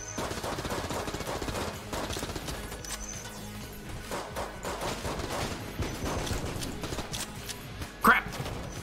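Rapid bursts of video game gunfire from Enter the Gungeon, dense and continuous through the whole stretch with one sharper crack near the end, mixed under game music and other effects.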